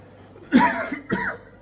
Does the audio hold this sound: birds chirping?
no